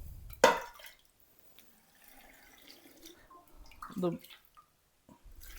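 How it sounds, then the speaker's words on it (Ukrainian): Cold water is poured over apples with sugar and salt for pickling, giving two short, faint splashing pours separated by quiet handling sounds. "Заливаємо водичкою холодною."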